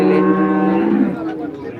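Cows at the Modnimb cattle market low in a sustained, loud moo that holds steady before tapering off, with the bustle of other livestock close by.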